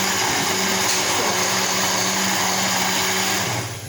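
A blender purees cooked tomatoes, whirring steadily at high speed, loud and close, with its motor pitch dropping slightly near the end.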